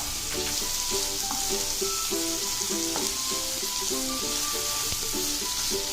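Keema mixture with carrot simmering in a pan, giving a steady, close sizzle and fry with soft stirring scrapes across the whole stretch; tonal music plays over it, and no one talks.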